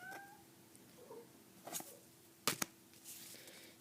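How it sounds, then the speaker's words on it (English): A house cat meows a few times, soft calls with one sharper yowl near the middle, close by and otherwise quiet. "That's actually my other cat this time. Making noises."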